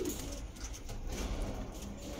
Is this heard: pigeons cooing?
yes